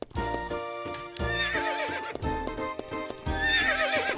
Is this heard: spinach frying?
no